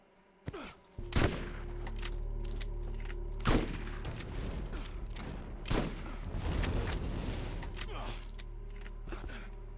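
Gunfire erupts in the video game Borderlands, several heavy blasts spread across the stretch with rumbling low-end booms between them, loud and close over a constant game background.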